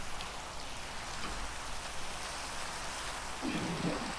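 Steady rain falls in the Minecraft video game, a continuous hiss of rain that stays even and moderately quiet from start to finish.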